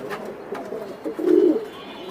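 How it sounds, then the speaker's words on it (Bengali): Pigeons at a pigeon farm in Mirpur coo nearby, soft scattered calls building to a fuller, throaty coo midway, with faint rustling between. "আজকে সুস্থ সবল কবুতর দেখাচ্ছি প্রত্যেকটা।"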